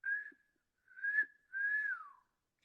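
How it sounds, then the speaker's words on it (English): A person attempting to whistle produces three short, wavering breathy whistles with gaps between, the last sliding downward in pitch, faint and close with no other sound. "I can't whistle. I'm trying,"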